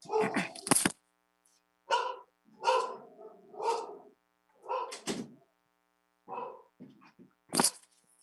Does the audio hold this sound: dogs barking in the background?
yes